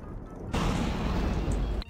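A bed exploding in a Bedwars video game: after a short quiet opening, a loud, sudden boom bursts in and rumbles on steadily until it cuts off near the end.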